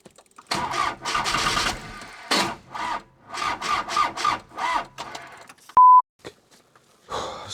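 A tractor engine cranks in a series of grinding, uneven bursts with short pauses between tries in extreme winter cold, followed by a sharp electronic beep and a few final sputters.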